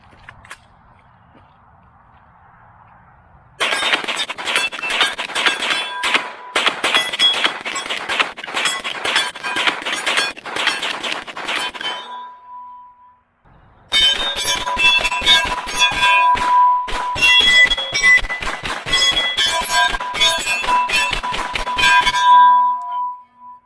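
A Palmetto State Armory AR9 is fired rapidly to empty a magazine, producing two long, loud bursts of closely spaced sharp shots with a bright metallic ring, separated by a short pause, with no talk.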